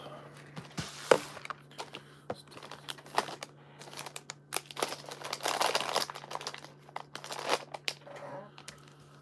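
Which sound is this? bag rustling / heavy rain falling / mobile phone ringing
bag rustling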